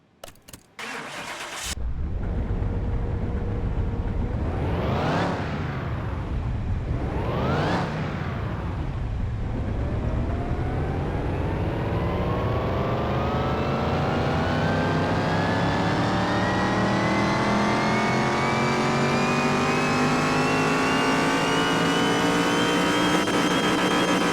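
A junkyard-build engine in Car Mechanic Simulator 2021 fires up on the dyno, blips twice, then holds a long, loud climbing rev that rises steadily in pitch to the end, with no talking over it.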